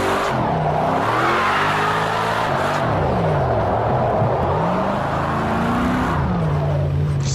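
Ford Mustang RTR drift car in the Project Cars 2 racing game, engine revving and wavering continuously as it slides through a drift, loud and steady with pitch rising and falling throughout.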